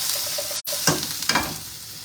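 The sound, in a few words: stirring frittata vegetables sizzling in a frying pan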